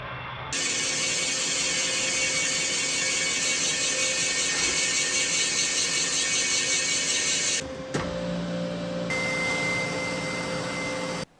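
Boring cutter machining a cylinder bore in a MOPAR 413 engine block, a steady loud mechanical whine and grind running continuously, then dropping in pitch and tone near the end as the cut changes.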